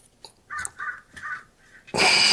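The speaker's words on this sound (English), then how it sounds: "Every time I start doing something, got the damn birds come out." Crows cawing outdoors near someone working on the radiator and auxiliary water pump of a Jaguar XJR, a series of harsh calls in a steady rhythm, then a loud broadband burst at the end.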